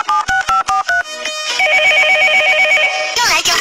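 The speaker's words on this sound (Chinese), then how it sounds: "又来电话了，我来接。" A telephone in a cartoon rings loudly with a few quick repeated electronic tones, then a sustained warbling ring close by.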